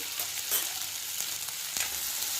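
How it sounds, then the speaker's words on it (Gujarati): Potato masala for vada pav, seasoned with salt and turmeric, fries in a pan while a spoon stirs it slowly, making a steady sizzle broken by several soft scraping taps. "આવી રીતે હલાવતા જઈશું"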